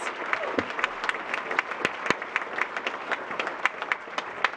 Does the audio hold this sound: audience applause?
yes